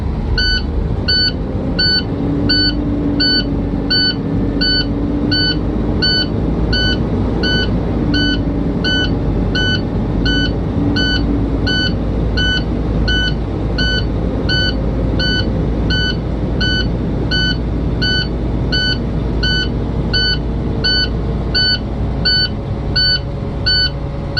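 A truck's electronic warning beeper pulses steadily and rapidly throughout inside the cab of an automatic truck, loud and close, over a continuous low engine rumble that rises slightly as the RPMs are brought up.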